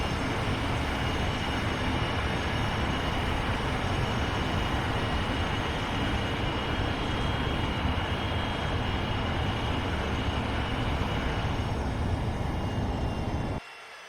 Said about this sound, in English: Okay, so I'm going to go reverse thrust. Full reverse. It's going to be kind of loud.